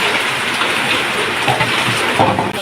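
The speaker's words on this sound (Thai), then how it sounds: "บ้านสวนริมคลอง ฝนตกแล้ว ดีใจจังเลย" Steady rain pours down with a dense, continuous hiss, close and loud, with scattered drops and splashes and no voices.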